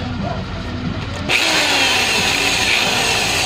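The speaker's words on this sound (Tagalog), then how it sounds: "tapos pa-plug natin yung drill" A quiet background gives way to an electric drill starting up and running with a loud, steady whine to the end, during an electric fan repair.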